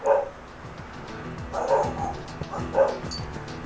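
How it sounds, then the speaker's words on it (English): Several dogs bark in short bursts in the video game The Last Remnant, three clusters spaced about a second apart, moderately close with a background hum. "the dogs start barking"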